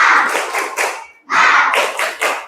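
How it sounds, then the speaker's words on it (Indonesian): A class performs a rhythmic spirit clap, two short bursts of patterned hand claps separated by a brief pause, close and crisp. "Tepuk semangat."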